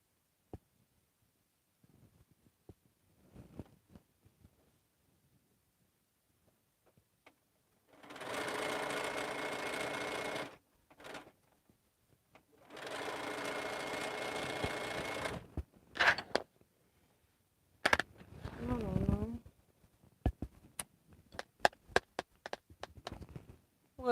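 After near silence, a sewing machine stitches a quilt block in two firm bursts of fast needle rattle, each a few seconds long. Shorter stop-start stitches and light handling noises follow.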